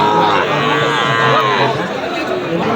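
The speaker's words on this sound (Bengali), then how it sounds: "এখানে আরেকটি শাইওয়াল ষাঁড় গরু দেখেছি।" Sahiwal bulls at a crowded cattle market in Naogaon low and moo amid continuous crowd chatter, the animal calls loud and close under the talk.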